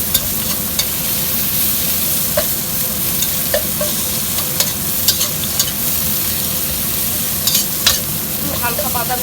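Onion frying with boiled bottle gourd in a pan makes a steady, loud sizzle, with occasional sharp clicks and scrapes from a utensil as the mixture is stirred.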